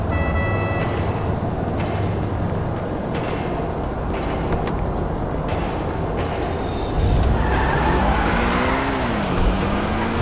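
A car engine in a GTA-style video game drones continuously with revs and a tire skid, joined by a rising whine near the end, loud and steady throughout.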